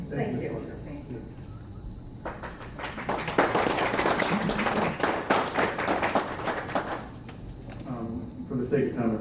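Audience applause at a city council meeting, a dense crackle of many clapping hands that swells after a couple of seconds and continues steadily, with murmured voices beneath it.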